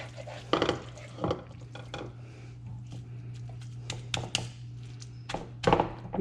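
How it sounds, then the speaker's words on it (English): A spoon pressing pork pie filling down into a pie crust in a pan gives soft scrapes and a few sharp taps and thunks spread over a steady low hum, with no talking. "I'm just pressing down with my spoon."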